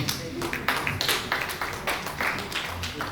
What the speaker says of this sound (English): We continue clapping until those pins drop down.